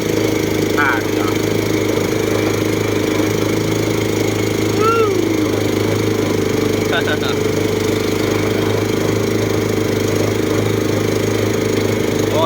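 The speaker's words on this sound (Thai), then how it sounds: "เสียงดังเครื่องยนต์นะครับ" A boat engine runs loud and steady throughout, a constant droning hum close by, with faint brief sounds drifting over it.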